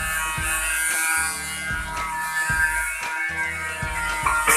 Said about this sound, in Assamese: চুইচ দিয়াৰ লগে লগে এইদৰে গতি কৰে প্লেনখনে।